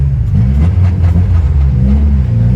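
A car heads out on the road toward a car meet, its engine droning close and loud with a low rumbling whir as it drives and picks up speed, no voices over it.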